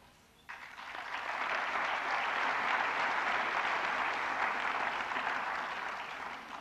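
Sustained applause from a large graduation audience at an Al Akhawayn University commencement, rising sharply then holding steady before slowly tapering, no voices over it.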